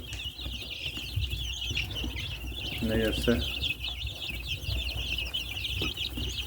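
Nineteen-day-old chicks cheep constantly in a busy high-pitched chorus, with clucking hens and a brief voice speaking partway through.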